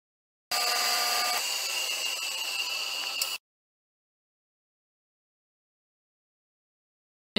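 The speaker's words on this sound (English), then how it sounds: "I'm just going to drill through this entire piece and then drill through the triangle as well" A power drill whines steadily for about three seconds as it bores through wood, then stops abruptly, followed by silence and a brief click.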